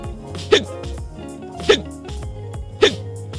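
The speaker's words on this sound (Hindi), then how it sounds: "हिचकी।" Three sharp hiccups at even intervals, each a short, abrupt catch of breath, standing out over a soft, steady background.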